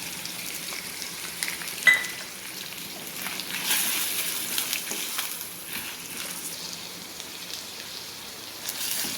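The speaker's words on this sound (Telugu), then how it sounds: "కొంచెం ఫ్రై చేసుకోవాలి." Boiled chicken liver frying with coconut poppy seed paste, ginger garlic paste and garam masala, giving a soft, even sizzle with a few sharp ticks and stirring scrapes, fairly quiet and close.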